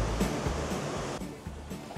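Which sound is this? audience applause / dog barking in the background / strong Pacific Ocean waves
strong Pacific Ocean waves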